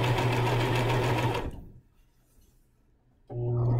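A sewing machine runs steadily as it stitches the seam of a pajama pant leg, stops for a moment of near silence, then starts up again loud and close.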